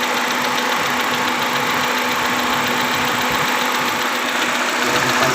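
A 2019 Hyundai Accent sedan engine idles steadily and close by, a constant mechanical hum with a faint, even vibration and no other sounds.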